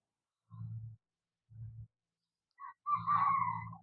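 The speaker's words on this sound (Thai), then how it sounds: "เดี๋ยวสิพาพี่น้องยินฟังเสียงไก่ขันครับพระอาทิตย์ออกแล้วพี่น้อง" A rooster crows at sunrise after a few short, low grunting bursts, its call rising into a clear, drawn-out crow that is loud and nearby, with nothing else around it.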